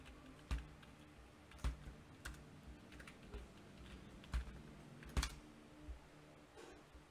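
Someone types a password on a computer keyboard during a Cisco Firepower setup in VMware Workstation, producing soft, sparse key clicks with a few sharper taps, recorded close and quiet.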